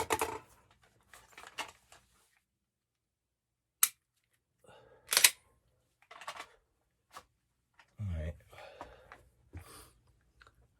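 An AR-15 fires UTM training rounds indoors at home, with several sharp, dry pops spaced a few seconds apart, separated by quiet stretches and brief handling noise.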